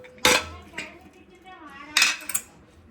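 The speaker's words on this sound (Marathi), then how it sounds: "हे बघा मी झाकण काढते" A metal lid comes off a cooking pot of dal khichdi with a sharp clank, a lighter knock, then a second rattling clatter, close by in a quiet kitchen.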